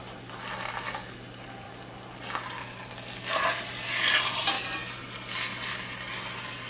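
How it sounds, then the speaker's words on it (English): Chuck roast steak sears in a hot cast iron skillet, giving a steady sizzle that swells and fades in waves, with occasional scraping and stirring noises and no talk. "we're just searing it on both sides"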